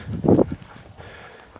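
A single short bleat rises from lambs and other young farm animals in a pen, followed by quiet barn ambience.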